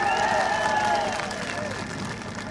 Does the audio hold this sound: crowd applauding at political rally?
yes